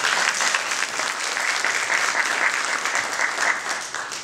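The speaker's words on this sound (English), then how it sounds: "Can we give Kirsten a round of applause?" An audience at a panel discussion on gentrification and displacement applauds steadily, a dense, even wash of clapping that stays loud from start to finish with no voices over it.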